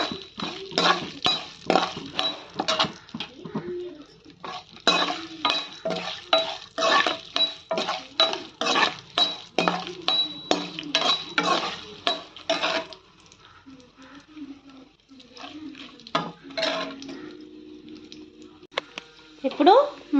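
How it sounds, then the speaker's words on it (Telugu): A spoon scrapes and stirs turmeric roasting in a pan for pulihora, quick rhythmic clinks and scrapes against the metal in bursts, with a pause and a few lighter taps near the end. "పసుపు, బాగా వేయించుకోవాలి."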